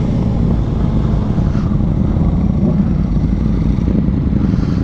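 A Ducati Panigale V4 Superleggera being ridden gives a loud, continuous engine drone mixed with heavy wind rush, steady at close range throughout with no clear revving peaks and no speech.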